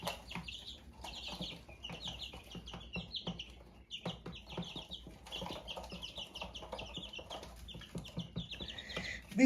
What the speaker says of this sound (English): I wanted to show you the baby chicks and turkeys.